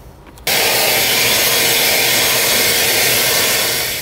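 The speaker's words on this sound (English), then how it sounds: "next we're gonna need a vacuum to clean up some of these shreds." After a moment of quiet, a loud vacuum cleaner switches on and roars steadily with a broad, rushing whoosh.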